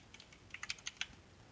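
Password typed on a computer keyboard: about eight to ten quick, light key taps in an uneven burst, faint and close, with no talk.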